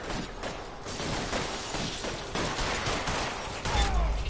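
Rapid gunfire in a video game shootout set in L.A. Noire, dense overlapping shots crackling continuously with a heavier thump near the end, no talk.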